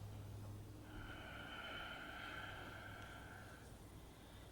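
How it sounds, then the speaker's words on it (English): Slow, steady breathing through the nose during a yoga practice, one long continuous airy breath lasting a few seconds, close and soft against a quiet background, with no talking. "You want to be inhaling and exhaling through the nose."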